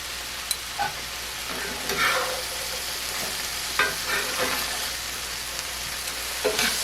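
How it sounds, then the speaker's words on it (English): Vegetables, including butternut squash and black beans, fry in a skillet with salt and pepper. A continuous sizzle runs under several distinct scraping stirs of a utensil across the pan, up close and without speech. "Stir this around."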